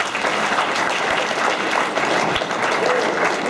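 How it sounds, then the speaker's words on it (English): A crowd gives a dense, steady round of applause for Mr. Jeffrey at a motivational event. The clapping is loud and continuous throughout, with a faint voice buried beneath it. "Please give him a round of applause"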